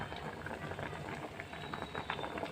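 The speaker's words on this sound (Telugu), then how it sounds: "చూడండి ఎంత బాగా మరుగుతుందో." Andhra pappu pulusu, a tamarind dal, boils vigorously in a pot. Dense bubbling and popping sounds close and steady, with no talking.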